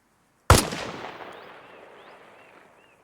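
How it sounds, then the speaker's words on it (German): A single sharp rifle shot fired at marked targets in the Arma Reforger video game cracks loudly near the start, then a long echoing tail fades out over several seconds. "Sieh jetzt weiter nach links und schieße auf die 3 markierten Ziele."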